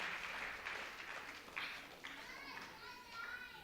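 An audience at a Tamil Thirumurai festival in Montreal claps in a soft, scattered patter, heard faint and distant in a hall with children's voices and murmuring around it.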